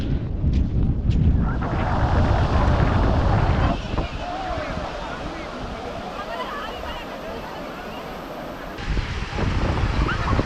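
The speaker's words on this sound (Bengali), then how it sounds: "বন্ধুরা এটাই হচ্ছে বকখালি সমুদ্র সৈকত" Waves wash in at high tide on Bakkhali sea beach, with continuous surf and heavy wind buffeting the microphone, louder at the start and end.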